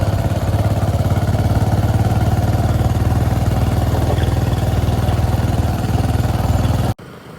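A Bajaj Discover motorcycle on the road to Dhareshwar runs with a loud, steady engine drone and wind rumble close by for about seven seconds before it cuts off abruptly.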